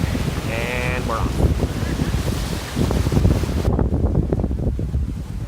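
Strong wind on a Bermuda beach buffets the microphone with a loud, continuous roar and low rumble, and surf sounds faintly underneath.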